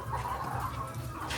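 Hens on a college poultry farm clucking softly in short repeated bursts, fairly close, with no talk.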